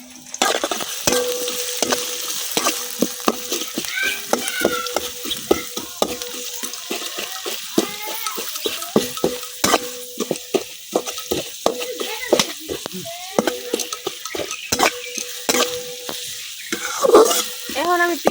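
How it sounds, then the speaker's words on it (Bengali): Onions fry in a pan with a continuous sizzle, broken by frequent scraping and clinking as they are stirred, close and fairly loud, with a voice faintly audible at moments. "এখন আমি পেঁয়াজগুলো কিছুক্ষণ ভাজা নিলাম।"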